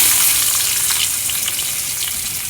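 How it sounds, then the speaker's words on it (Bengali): Cumin and chopped tomato frying in hot oil as the base for a fish curry, giving a loud, continuous sizzle with crackling spatters throughout and no talking. "মাছের ঝালের জন্য সামান্য জিরে ফোড়নে দিয়ে দেবো।"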